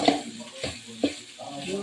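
Vegetables frying and being stirred in a pan, a steady close sizzle broken by several scraping stirs, with a little talk faintly in the background.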